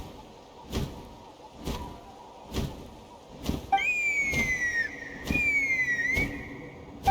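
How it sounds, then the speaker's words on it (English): A whistle in the Genshin Impact video game rises and slides in pitch over steady game background noise and rhythmic thumping footfalls. "Huh? That sounded like a whistle."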